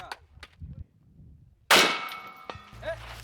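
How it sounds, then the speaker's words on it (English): A single heavy, sharp rifle shot at a heavy rifle shooting competition, loud and close, followed by a brief metallic ring and faint clatter. "fire the last round out at the 200-yard target"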